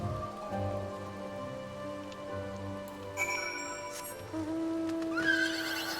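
A horse in a video game gives a drawn-out neigh over a soft patter of rain, with tonal game music sustained underneath throughout.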